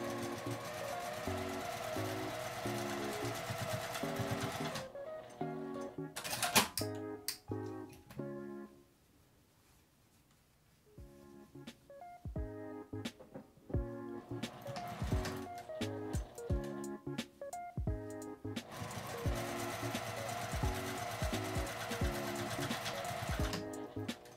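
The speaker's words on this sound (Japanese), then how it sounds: "上端から1センチのところを縫います。" A sewing machine stitches a seam along the top edge of a fabric drawstring bag, a steady close whirring hum that runs for several seconds, pauses briefly with a few small clicks, then resumes its continuous stitching drone.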